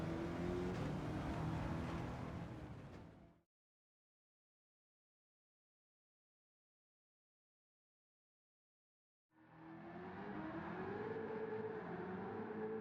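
An engine-swapped 2004 Mitsubishi Lancer Evolution VIII MR GSR on a drift tune in Gran Turismo 7 drones with a steady, loud engine note, cuts to several seconds of silence, then resumes at a slightly higher pitch.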